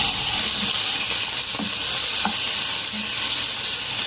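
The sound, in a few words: chicken frying in a pan with oil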